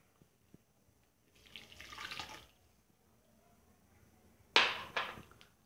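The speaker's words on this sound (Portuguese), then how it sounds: "vamos colocar no liquidificador a água fervendo." Boiling water is poured into a blender for homemade condensed milk, giving two short splashing bursts separated by quiet, with faint clicks at the start.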